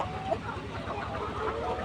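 Laying hens cluck on a poultry farm, a scattered chorus of soft clucks heard under someone talking nearby.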